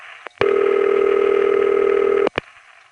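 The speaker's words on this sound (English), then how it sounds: "This is a variant of standard city ring, which Bill Acker and I used to call Gluggy ring." Gluggy ring, a variant of the standard city telephone ring from a 1970s Bronx panel exchange, sounds as one steady ring burst of about two seconds with a rapid pulsing warble, framed by brief clicks before and after.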